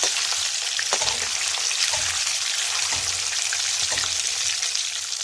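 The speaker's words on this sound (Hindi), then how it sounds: "इसे आपने ज़्यादा फ्राई नहीं करना, सिर्फ 1 मिनट के लिए आपने फ्राई करना है।" Fish fries in a pan for a fish curry, giving a loud, steady hiss of hot oil with occasional sharper pops and spatters throughout.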